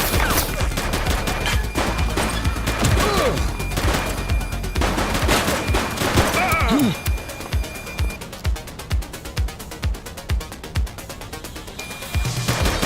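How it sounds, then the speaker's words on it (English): Gunfire in The Precinct, a police game, with bursts of shots over a busy, loud background, then a rapid run of evenly spaced close shots in the second half. "Shots fired!"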